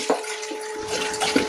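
Water poured into a pot for cooking pasta in a home kitchen, a steady, close splashing pour lasting about a second and a half with no talk.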